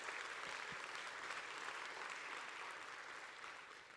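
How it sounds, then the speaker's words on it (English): A large audience at a tech company impact presentation bursts into sustained applause, a thick, even roar of clapping that tapers slightly at the end. "give yourselves a round of applause"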